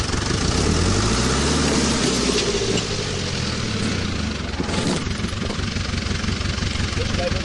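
A tractor engine runs at a steady, loud idle close by, its low rumble droning without a break for the whole stretch.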